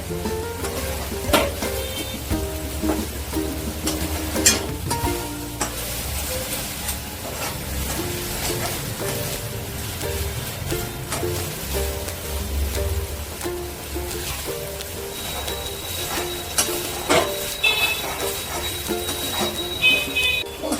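Okra masala with coriander leaves sizzles steadily in a pan, stirred with repeated scraping and clinking strokes of a spoon over a constant frying crackle.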